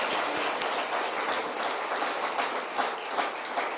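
A church congregation claps together during a Christian worship service in Vizag, a dense, steady wash of applause that holds for the whole stretch with a few sharper claps standing out near the end.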